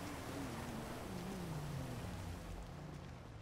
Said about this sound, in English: You don't need to be standing out there in the rain.